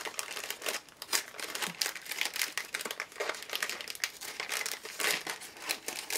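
A broken plastic sticker packet gets opened with continuous close crinkling and crackling of thin wrapping, loud and busy for several seconds, with no talk over it.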